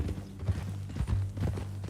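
Horse hooves clip-clop at a steady walking rhythm in the Red Dead Redemption 2 video game, close and clear with a low background hum and no talk.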